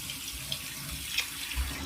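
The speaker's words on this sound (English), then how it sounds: "It's the water in the face." Water splashed onto a face from a running sink before shaving, a steady close wash of tap water with a few brief splashes.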